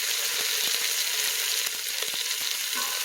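Baby carrots go into a roast in an Instant Pot with a steady, close sizzle and a scattering of soft thuds and clicks as the pieces drop in.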